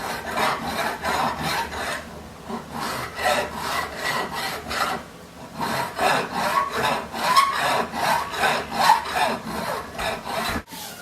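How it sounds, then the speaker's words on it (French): A large file is worked across the edge of a hammered silver piece to smooth out its ripples: a loud, close, rhythmic rasping of repeated strokes, pausing briefly midway and then resuming at a steady pace, with no talking. "moi j'y vais à la grosse lime et j'essaie de faire le champ de ma pièce là, enlever toutes les vaguelettes qui sont dues au martelage"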